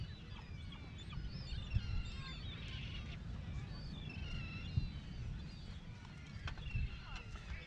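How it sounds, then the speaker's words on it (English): Honking, goose-like waterfowl calls by the lagoon at Lagoa de Albufeira, scattered and fairly distant over steady wind and outdoor rumble. "Wow, there's some really cool birds here."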